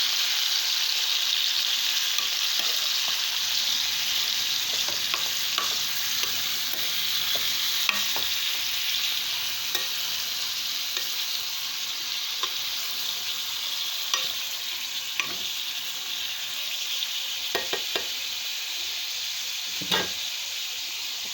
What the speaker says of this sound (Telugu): బాగా మిక్స్ అయ్యేలా కలుపుతున్నాము